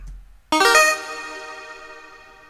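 A selection sound effect for an escape room game show: a sudden bright, chime-like synthetic hit with a shimmering attack, ringing out and slowly decaying over two seconds, heard alone.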